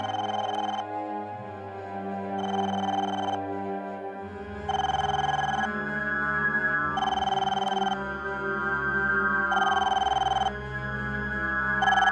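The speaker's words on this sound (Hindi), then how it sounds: "ये अमित फोन क्यों नहीं उठा रहा है?" A telephone rings in repeated electronic bursts with short gaps, loud and close, with no voices over it, in a Hindi horror drama scene.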